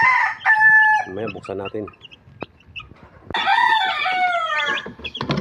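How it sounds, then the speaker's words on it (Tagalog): Chicks and chickens clucking and crowing at close range, in loud bursts with high peeping, while a person speaks briefly in between. "Tapos ito yung mga sisiw natin."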